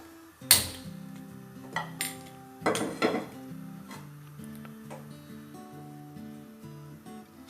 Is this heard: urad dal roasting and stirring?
yes